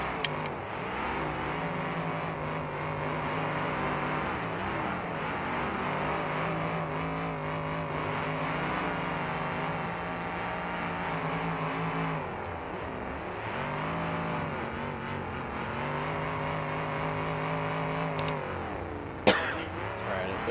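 A methanol-fuelled race car engine drones steadily, its harmonic tone slowly wavering in pitch as it idles and revs, ending with a sharp brief knock near the end.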